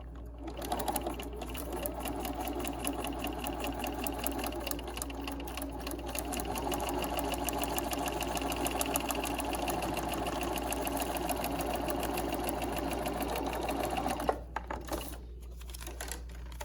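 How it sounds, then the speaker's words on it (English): A sewing machine stitching a quilt block runs steadily, its rapid mechanical stitching humming close by for most of the stretch before stopping near the end. "then I take it to the sewing machine. Okay, and I'm just going to sew right along this line here"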